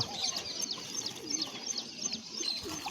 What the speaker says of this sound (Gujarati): આ આપણા કબૂતર બધા ખુશ છે